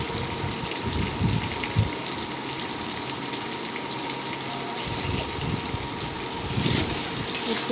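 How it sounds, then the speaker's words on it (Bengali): Egg and papaya frying lightly in a home-kitchen pan give a steady, close sizzle with soft crackles throughout, and no voices. "এটা হচ্ছে ডিম আর পেঁপেটা একটু হালকা করে ভেজে নেওয়া হচ্ছে"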